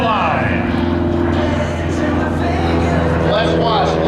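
An aerobatic propeller airplane at the Abby Air Show 2025 pulls through a full 360 maneuver, its loud, continuous engine drone rising and falling in pitch, with an announcer's voice running over it.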